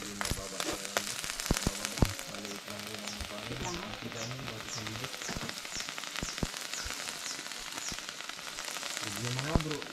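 Garlic frying in hot cooking oil, a close, continuous crackling sizzle with scattered pops and utensil clinks, while voices talk faintly in the background.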